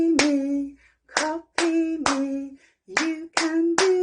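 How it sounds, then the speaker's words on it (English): Hands clap a rhythm in a classroom, seven crisp, close claps in uneven groups with short ringing tails and brief silent gaps between phrases, no voices. "get them all to sit and copy you actually clapping the rhythm"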